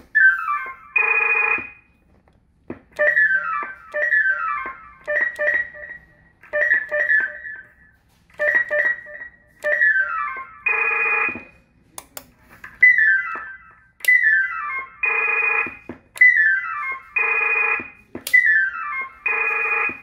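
A series of short CB radio roger beep sequences from an RCI 2950CD radio, descending chirps ending in a sustained tone, repeating steadily over about twenty seconds with no voices.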